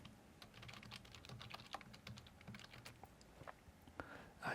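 Keys on a computer keyboard are typed in quick, uneven bursts of close, crisp clicks, then a brief pause and a few more taps near the end.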